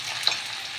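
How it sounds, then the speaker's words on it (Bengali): Chopped onion frying in hot oil with bay leaf and cumin for an egg omelette curry, a steady close sizzle with a faint stir partway through. "পেঁয়াজটাকে লাল লাল করে একটু ভেজে নেব"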